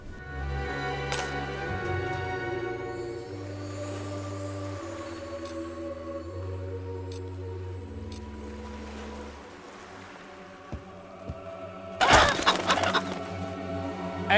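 Chickens clucking in the Fable Anniversary video game, a series of short, tonal clucks and calls over a low droning hum, ending with a louder burst of clatter, with no talking.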